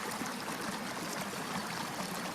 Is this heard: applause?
no